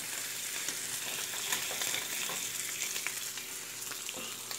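Bacon sizzles and spits steadily in a hot frying pan at breakfast, a dense, close crackle with occasional louder pops and no talking.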